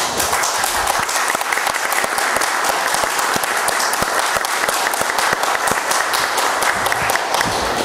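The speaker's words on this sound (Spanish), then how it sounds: "Como escucho ese aplauso, que es un aplauso de aclamación" Sustained applause of acclamation fills a citizen security committee meeting, a dense, even roomful of clapping hands that continues without pause for about eight seconds.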